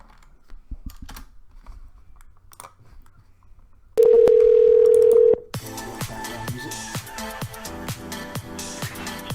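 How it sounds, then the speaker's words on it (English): A telephone dial tone holds steady for over a second, then tones and clicks of dialing follow, leading into a ringing line with rhythmic pulses. "Let's get him on the phone really quick."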